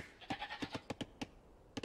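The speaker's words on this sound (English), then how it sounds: "Let's send the goats too." Goats bleating in Age of Empires II, a series of short nasal bleats in an irregular rhythm, about nine calls close together, clear and alone over faint game ambience.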